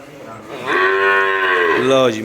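A Sahiwal Jersey cross cow lets out a single loud, drawn-out moo close by, rising and holding for over a second before trailing off.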